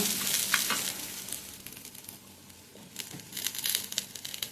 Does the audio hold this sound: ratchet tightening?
no